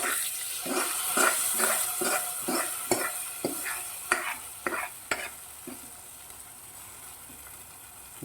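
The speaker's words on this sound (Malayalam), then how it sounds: "നമുക്ക് ഈ തേങ്ങ വറുത്തത് ഇതിൻ്റെ അകത്തോട്ട് ചേർക്കാവേ." Roasted grated coconut is tipped into a pot of Kerala erissery curry, giving a scraping stir, a few sharp spoon knocks against the pot and a low bubbling simmer, close and with no talk.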